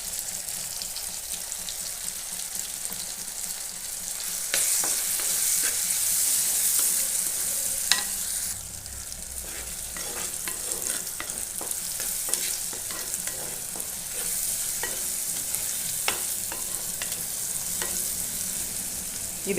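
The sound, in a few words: tomatoes and onions sautéing in a pan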